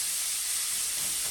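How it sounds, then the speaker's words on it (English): Garlic sizzles in olive oil in a pan, a steady, bright, even hiss that holds without a break, close and fairly quiet, with no talking. "So I got the garlic in there with the olive oil."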